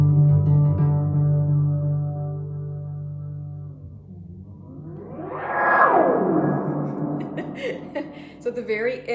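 An electric guitar through a delay pedal sustains a dense, echoing chord wash; as the foot slowly presses the pedal down, the repeats swell and sweep upward into a bright, smeared cascade that keeps building until the end.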